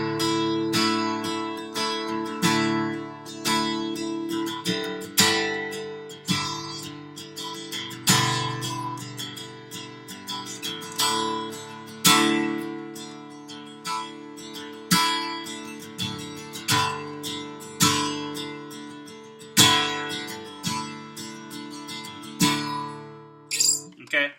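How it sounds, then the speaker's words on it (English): Acoustic guitar strummed hard with a pick while the fingers add a thumping low percussive hit, producing loud rhythmic strokes with sharp attacks repeating steadily, close up and without speech. "That sounds like this when I'm at full strumming."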